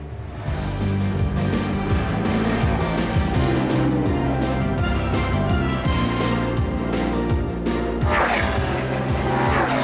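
NASCAR Winston Cup stock cars roar around Indianapolis Motor Speedway during 1995 Brickyard 400 final practice. Loud, continuous engine drones rise and fall in pitch as cars pass, and a sharper whine swells near the end.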